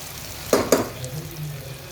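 Onions fry in a pan for chicken biryani with a soft continuous sizzle, punctuated by two sharp crackling pops in quick succession near the start.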